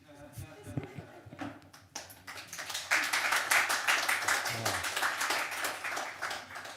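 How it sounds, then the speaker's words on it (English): Applause from a poetry night audience after a poem, starting with a few scattered claps and quickly swelling into a full, steady round of clapping that holds for several seconds, with talk faintly mixed in at the start. "Don't applaud that."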